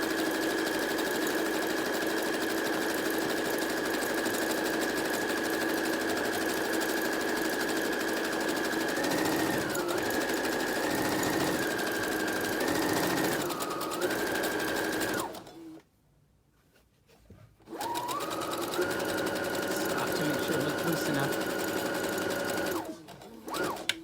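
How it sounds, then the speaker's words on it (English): A sewing machine stitches along a curved T-shirt edge with a steady, close motor whir. It briefly slows and changes pitch, pauses for about two seconds, then resumes before stopping. "just stitching along the outside edge,"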